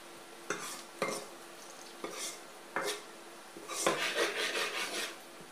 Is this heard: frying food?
yes